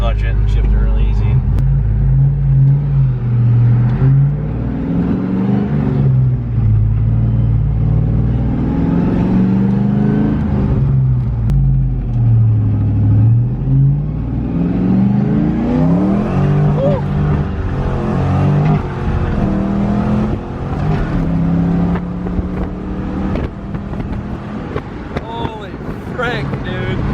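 A 6.0 V8 in an S10 drag truck on its first ride revs and pulls through gears, a loud, continuous engine drone with rising and falling pitch, heard from inside the cab with wind noise and people talking over it.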